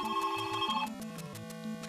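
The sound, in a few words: phone ringtone, incoming phone call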